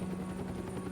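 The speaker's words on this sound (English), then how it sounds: "Oh, a chopper" In the Batman Telltale video game, a helicopter in the distance gives off a steady, low rotor drone with faint rhythmic chopping, continuous throughout and unaccompanied by voices.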